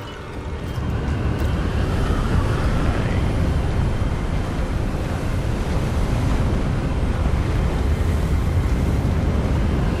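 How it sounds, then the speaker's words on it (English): Steady, loud wind roars without a break in a windy outdoor area of the video game Hogwarts Legacy, a dense, rushing whoosh that fills the whole clip with no talk. "It's a bit windy."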